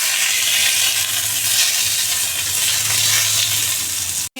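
Tomatoes frying in hot oil in a home kitchen pan after potatoes and bay leaf, giving a steady, loud broadband sizzle that runs unbroken and cuts out abruptly just before the end.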